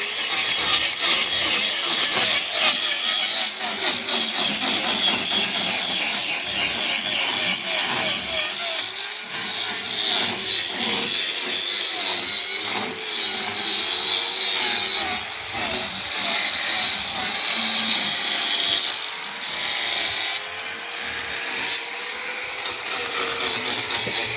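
An angle grinder fitted with a special disc whines and scrapes continuously against cow hooves during trimming, its pitch wavering as pressure shifts, loud and close for a long stretch.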